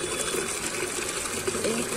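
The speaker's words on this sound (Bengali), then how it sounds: "এই বালতিটা ভর্তি হয়ে যাক।" Water gushing from a tap into a bucket as it fills: a steady, close rushing splash with voices talking over it.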